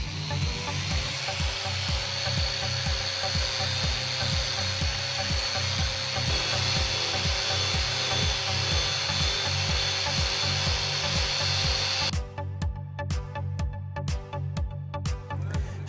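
A Walter Quick Step disc on a Big Buff grinder spinning at 7,000 RPM grinds down a weld with a loud, continuous abrasive roar and rhythmic pulsing strokes. The whine then drops to a sharper, ticking scrape near the end, with no talking.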